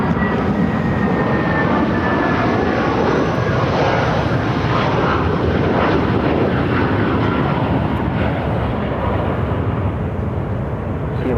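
Denver Air Connection Fairchild Metroliner turboprop engine at an airport, a loud, steady, close roar with a faint whine above it, holding constant throughout without a break.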